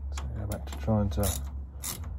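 Metal bolts being tightened with a ratcheting tool to draw a bearing off the wheel hub of a Daimler Ferret armoured car, giving close mechanical clicks and creaks, with a voice briefly audible.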